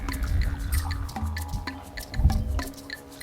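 Spring water bubbles up through limestone, soft irregular drips and gurgles with low murmuring water close by, no voices.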